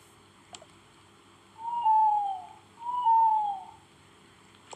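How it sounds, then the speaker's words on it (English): Two drawn-out owl hoots ring out one after another in a video game, fairly loud and clear against a quiet background, with no one talking. "Oh, there's an owl up there."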